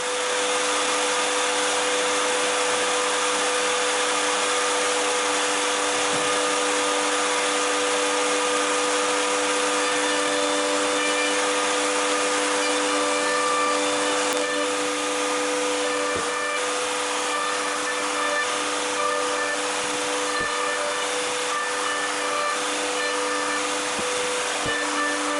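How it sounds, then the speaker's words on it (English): A router mill cuts a bevel around the edges of a plate on a router table, giving a continuous loud, high-pitched motor whine with a steady cutting hiss for the whole span, no talking. "I set the mill a millimeter higher and put a bevel around the edges of the plate"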